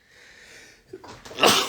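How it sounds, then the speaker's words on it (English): After a soft drawn-in breath and a short pause, a single sharp, loud sneeze bursts out close by. "it was just a sneeze"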